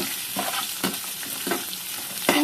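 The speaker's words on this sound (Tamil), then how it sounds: "இஞ்சி பூண்டு வரமிளகா போட்டாச்சு இதெல்லாம் வறுத்து எடுத்துக்கலாம்" Ginger, garlic and dried red chillies fry in hot oil for a Chettinad chicken curry, giving a steady close sizzle broken by several soft stirring scrapes, with no voices.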